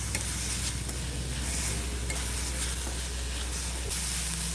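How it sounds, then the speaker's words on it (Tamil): Onions sautéing in a pan for a Tamil wheat stuffed snack, with curry leaves added, giving a loud, steady sizzle with faint stirring scrapes throughout. "வெங்காயம் இன்னும் நல்லா வதங்கிடுச்சு."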